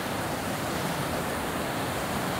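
A waterfall roars in a steady, dense broadband rush heard from its edge, loud and unbroken with no other sounds on top.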